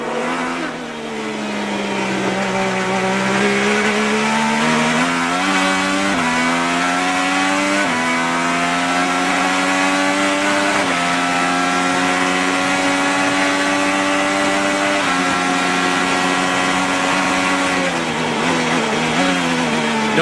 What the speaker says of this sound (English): You can hear him go from full throttle straight to the brakes